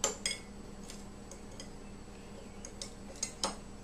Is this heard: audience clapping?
no